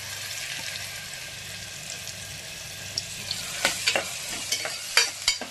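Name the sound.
chopped onion and garlic sautéing in oil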